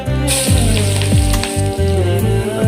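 Loud, steady sizzling of ground paste frying in hot oil for avarakkai mor kuzhambu, with a few sharp crackles and stirring clunks; no voices.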